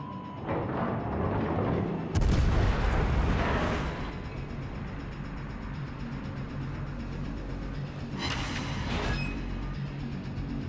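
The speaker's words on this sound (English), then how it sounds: "Scharnhorst, of course, has the small guns, 280 millimeter guns" Scharnhorst's 280 mm naval guns firing in a warship video game: a heavy booming salvo, then a second salvo several seconds later over steady engine and sea rumble.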